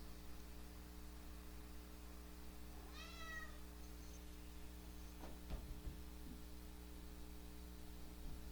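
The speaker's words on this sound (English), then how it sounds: "That's my cat." A single faint meow from a cat rises and falls once, followed by a couple of soft clicks, over a steady electrical hum in a quiet room.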